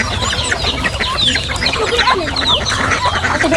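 Chickens cluck and chatter close by in a rural Philippine village yard, with busy overlapping calls running throughout and no speech.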